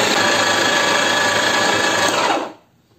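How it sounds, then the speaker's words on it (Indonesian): A small electric food chopper whirs loudly and steadily for a couple of seconds, blending a filling for chicken mushroom noodles, then cuts off and spins down. "Lalu ini kita chopper jadi satu."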